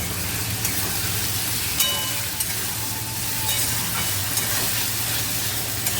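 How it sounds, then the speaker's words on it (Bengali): Tomato and spices sizzle and fry steadily in a pan as they are stirred, a dense continuous crackle with a few soft scrapes, close and alone with no talk. "তো এটাকে একটু নাড়িয়ে নিই।"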